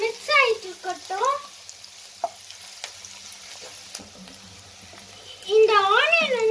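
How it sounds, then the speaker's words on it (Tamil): Onions frying in a pan for chilli parotta, with a steady sizzle running under a woman's speech, which is loud at the start and again near the end, with a quieter stretch of frying in between. "இந்த ஆனியன் வந்து ரொம்ப ப்ரௌனிஷா வரக்கூடாது."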